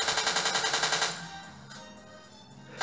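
Cyborgs firing guns in the video game Flying Ninja Turtle Warrior: a rapid, evenly pulsed burst of automatic fire for about a second, then a fading electronic wash and a final sharp shot.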